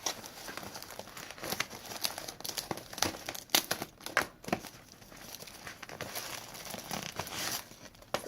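Paper crinkles and rustles while being wrapped around a homemade gift basket, with soft irregular crackling and tearing sounds at close range, fairly quiet, with no talking.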